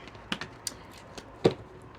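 A deck of oracle cards being cut and handled gives a handful of soft, sharp taps and clicks spaced irregularly across a quiet moment, with no talking.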